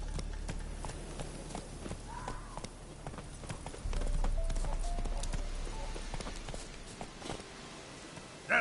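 Hooves of a horse in The Witcher 3 clip-clop at a walking pace, close and moderately loud, over a low ambient game background.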